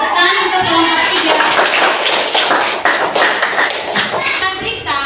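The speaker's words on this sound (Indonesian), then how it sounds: "Tepuk tangan untuk kelompok 3" Applause for a group of schoolchildren in a classroom: many small hands clapping in a dense, steady patter, with children's voices mixed in throughout.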